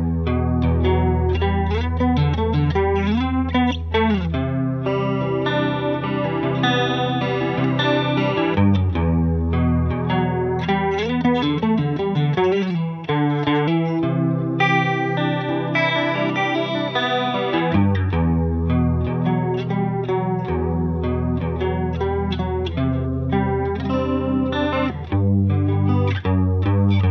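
Electric guitar through a Boss CE-1 Chorus Ensemble pedal, playing shimmering chords and melodic lines with a lush, wavering doubled tone, steady and continuous for nearly half a minute with no talking.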